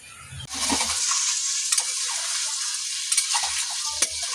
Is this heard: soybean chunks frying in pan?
yes